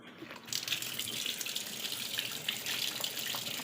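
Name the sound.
water running from a tap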